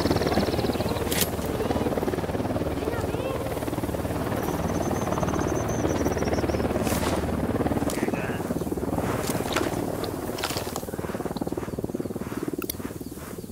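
A Unidad helicopter in Ghost Recon Wildlands drones steadily with a continuous rotor hum through the scene, accompanied by scattered game effects and faint chatter.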